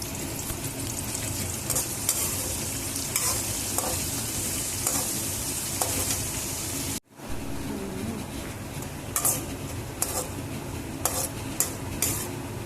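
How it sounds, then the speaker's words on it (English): Finely chopped onions and green chilies with salt frying in a pan for semolina upma, a dense continuous sizzle with frequent clinks and scrapes of a utensil stirring, briefly cut off midway then resuming, near and loud without talk. "keep stirring them till both of them turn translucent in color"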